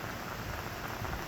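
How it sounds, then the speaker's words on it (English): Steady rain falling outdoors around a 1966 Dodge Coronet being restored, a dense even hiss with no voices. "sure enough, it started raining again."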